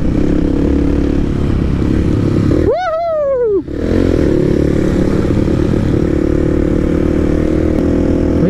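A Tornado 250 motorcycle rides a dirt trail, its engine droning close and loud, with one brief rising rev that peaks and drops sharply before the steady rumble returns.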